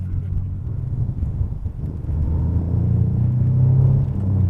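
An Alfa Romeo 164 V6 accelerates, its engine rumble heard from inside the car rising into a steady, louder drone with some road and wind noise, and no talking over it.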